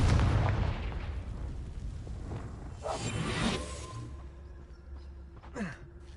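A fiery blast from the Confringo spell in a PS4 video game explodes with a thick rumbling boom, then rolls off into debris noise and a fading whoosh, with a fainter secondary impact near the end.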